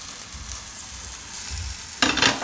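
Leftover rotli, spread with a spiced flour coating, fries face-down on a hot tava griddle with a soft, steady hiss that flares into a sharper, brighter sizzle near the end.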